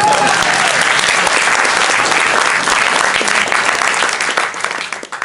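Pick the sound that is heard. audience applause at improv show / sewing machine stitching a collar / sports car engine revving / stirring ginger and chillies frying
audience applause at improv show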